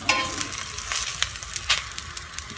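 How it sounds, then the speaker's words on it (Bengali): An egg paratha fries in oil in a pan, making a close crackling sizzle dotted with small pops and spatters across a few seconds, with no voices. "ডিম পরোটাটি কিন্তু ভাজা হয়ে গেছে"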